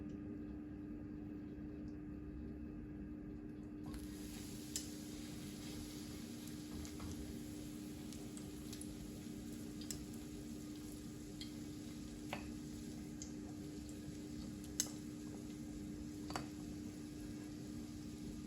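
Breaded chicken breast sizzles in a frying pan, a soft, steady crackle with occasional small pops and ticks throughout.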